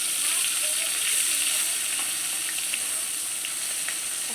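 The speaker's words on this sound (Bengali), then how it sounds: "এখন আমি কই মাছটা ভাজি করতে দিয়ে দিলাম" Koi fish frying in hot oil, a steady dense sizzle with faint crackles running close and loud throughout, no talking.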